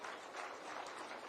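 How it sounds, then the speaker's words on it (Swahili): Audience applauding at the launch of a Nairobi County school feeding programme at Roysambu Primary School, a steady, dense patter of clapping that fills the whole short moment without a break. "Tuwapigie makofi hawa watu jamani."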